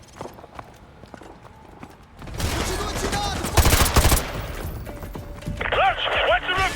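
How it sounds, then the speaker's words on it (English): Heavy militia gunfire in Modern Warfare 2 Remastered's favela chase breaks out in dense automatic bursts after a quieter opening, loud rattling volleys continuing to the end. "we're taking heavy fire from the militia here"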